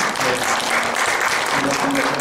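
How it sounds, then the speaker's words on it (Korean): An audience at a university keynote lecture gives a dense, sustained round of clapping to welcome the speaker, loud and continuous throughout with faint voices mixed in. "박수 부탁드립니다"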